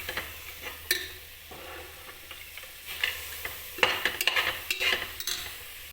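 Soaked peas being stirred into a pan with salt: a scattering of scraping and clinking spoon strokes against metal over a faint, low sizzle, sparse at first and busier toward the end, with no voices.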